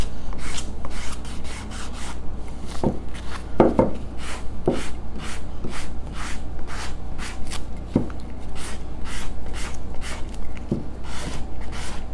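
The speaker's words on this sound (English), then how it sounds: "Maybe I'll try the block on this one just for a little bit on the fine grit." Fine-grit sandpaper on a block rubs back and forth over a painted wood leg, a steady rhythmic rasping of repeated close strokes with no talking.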